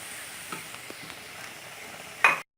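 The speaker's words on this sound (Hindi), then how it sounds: "फिर हम थोड़ा थोड़ा करके इसमें सूजी डालेंगे ताकि फुटकियाँ ना बने। हम अपना चमचा चलाते रहेंगे।" A spoon stirs semolina into an egg halwa mixture in a pan, making a soft low sizzle with faint scrapes and a louder clatter just before it cuts off, quiet and close with no voices.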